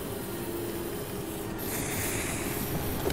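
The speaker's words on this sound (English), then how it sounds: "Gotta do some more spray painting." Spray painting in the LEGO DC Super Villains video game: a steady hissing aerosol spray runs throughout, becoming louder and brighter partway through, with no voices present.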